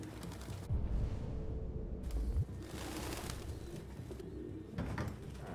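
A pigeon coos repeatedly in the video game Detroit: Become Human, with soft low rolling calls in a few bursts over steady background ambience.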